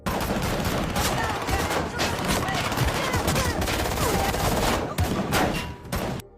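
Dense, rapid gunfire crackles nonstop in a film shootout between police and mafia, bursts overlapping with faint shouting, loud and close before cutting off near the end.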